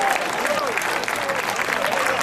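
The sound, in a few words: audience applauding the Canadian champions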